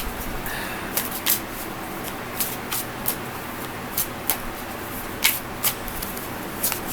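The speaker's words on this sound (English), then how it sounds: "I'm going to mix these up a little bit better because I don't think I shuffled them very good" A deck of tarot cards is shuffled by hand close up, soft continuous riffling broken by crisp repeated slaps and taps as the cards are mixed.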